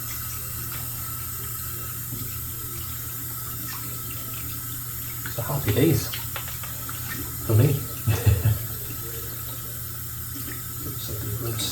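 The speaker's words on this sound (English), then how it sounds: "I'm just going to rinse the soap out now" Tap water runs into a sink, rinsing soap out of a shaving brush under average water pressure in a high-rise flat, a steady splashing stream with a few louder gushes as the brush is worked, and someone speaks briefly.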